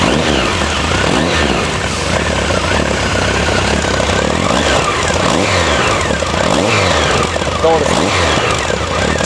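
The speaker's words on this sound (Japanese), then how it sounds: "まずは排気音いきますよ。" A Honda CB1100 motorcycle's exhaust, a loud, close, deep rumble with rising and falling revs as the throttle is blipped repeatedly, continuous throughout.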